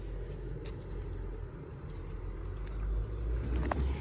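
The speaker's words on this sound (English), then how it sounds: "Okay, here's a bus." A bus rumbles along the road nearby with a low, steady engine drone that swells slightly as it draws closer, over street noise.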